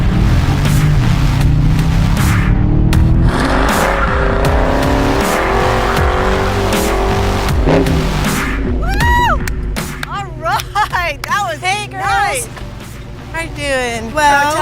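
A Genesis G70 driven by a stunt driver in a staged car chase roars and revs loudly, with tires squealing in repeated sharp bursts; voices speak over the engine noise.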